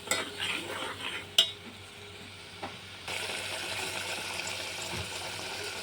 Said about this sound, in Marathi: मिश्रण एकजीव करायचे